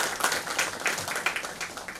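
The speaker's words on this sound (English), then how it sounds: "a big round of applause for the volunteers who have worked tirelessly towards the fruition" Applause from an audience at a conference inauguration ceremony, honoring the event volunteers. Dense, steady clapping from many hands holds for the full two seconds at a moderate, slightly distant level, with faint voices mixed in.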